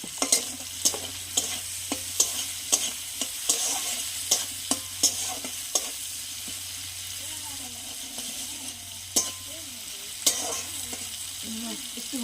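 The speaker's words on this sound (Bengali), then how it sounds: "একটু ভাজা ভাজা হোক।" Prawns fry in a pan with turmeric and salt while a spoon stirs them, with a continuous sizzle broken by frequent sharp scraping knocks against the pan, and someone talks briefly in the middle.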